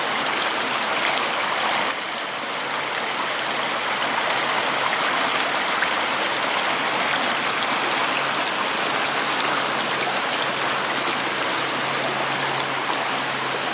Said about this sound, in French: Ah, encore le cours d'eau.